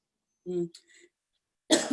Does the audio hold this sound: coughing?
yes